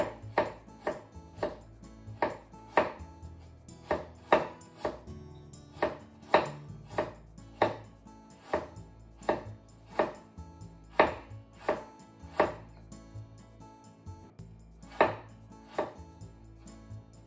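A knife cuts unpeeled ginger into thin slices on a board, making a steady run of about twenty crisp close chops with brief pauses between bursts.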